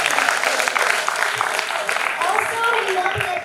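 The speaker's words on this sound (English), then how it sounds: "Can we please have a huge round of applause?" Students and guests at a Saveetha School of Engineering climate literacy talk give a sustained round of applause. It is close and steady, with scattered voices and talk mixed in.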